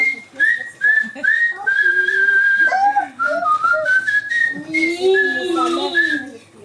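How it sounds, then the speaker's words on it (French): A person whistles a cheerful little song of several phrases, the melody clear and close, with brief breaths and pauses between lines and a few spoken interjections mixed in. "Bah, allez, siffle-nous une petite chanson."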